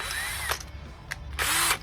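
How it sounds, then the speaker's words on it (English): A cobalt drill bit works into metal on a 2000 Corvette in short whining, grinding bursts with brief pauses between them, close and fairly loud, and no talking. "So this is a cobalt drill bit."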